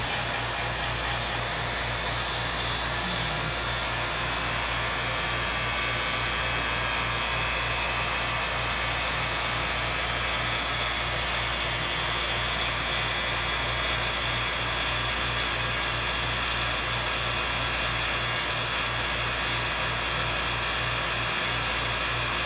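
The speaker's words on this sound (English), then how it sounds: "I don't think my vacuum pump is strong enough to pull out the air" A vacuum pump pulling air from a chamber runs loud and steady for over twenty seconds, a constant whooshing hum with a low pulsing throb and no talk.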